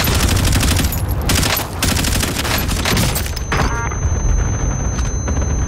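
A cluster strike in a first-person shooter game hammers down as a dense, continuous barrage of loud overlapping explosions and rattling bursts, close and relentless across several seconds with no pauses.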